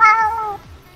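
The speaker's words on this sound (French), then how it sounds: "vas-y, miaule, Régis, miaule." A Minecraft cat lets out a single clear, close meow that fades over about half a second, with no talk around it.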